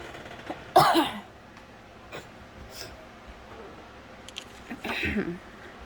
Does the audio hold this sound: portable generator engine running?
no